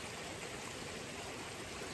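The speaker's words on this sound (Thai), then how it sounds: "น้ำสวยเนาะ เหมือนน้ำตกแบบตาม ที่เขาอนุรักษ์ไว้อะเนาะ" Steady, continuous rush of a forest stream spilling over rocks like a small waterfall, close and fairly loud, a dense unbroken wash of water noise with no voices.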